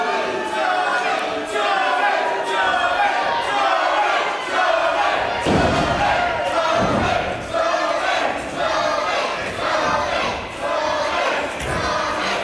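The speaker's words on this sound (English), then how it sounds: "the crowd absolutely loving this" A wrestling crowd in a small hall in Chelmsford roars and shouts continuously during a title match, with swelling cheers and chants rising in waves, loud and close.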